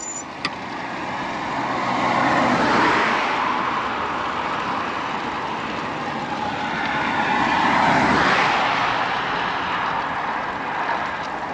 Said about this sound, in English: Let those cars go by.